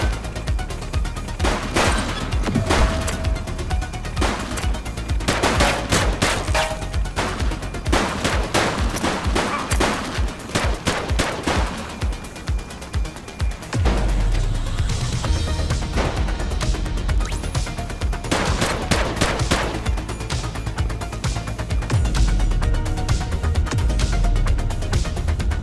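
Rapid bursts of automatic gunfire in a shootout from The Precinct, dense volleys of shots and sharp cracks filling the whole stretch, near and loud with no talk.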